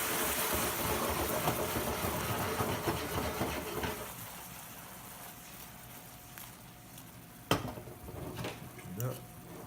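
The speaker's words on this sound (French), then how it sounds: "on va venir mettre les gnocchis dans la poêle" Gnocchi tipped into a frying pan with softened, translucent onions, giving a dense sizzling and clattering for the first few seconds that then settles into a quieter simmering hiss with a single sharp knock near the end.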